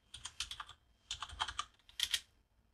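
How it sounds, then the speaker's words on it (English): Keystrokes on a computer keyboard while typing the ifconfig command, three quick bursts of clicking separated by short pauses, close and fairly quiet. "Another option available to us is to type ifconfig."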